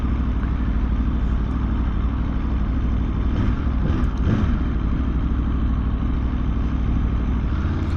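A 2026 Aprilia Tuono V4 Factory motorcycle engine drones steadily while riding in second gear, a continuous smooth mid-pitched rumble with wind noise and a brief swell partway through, no talk.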